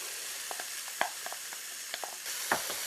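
Chopped onion hitting hot oil with cumin seeds and bay leaves, a bright steady sizzle punctuated by small pops and crackles, with a louder burst of frying near the end, close up and free of speech.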